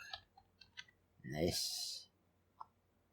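Scattered clicks of typing on a computer keyboard, close and fairly quiet, with a short stretch of a voice speaking between the keystrokes.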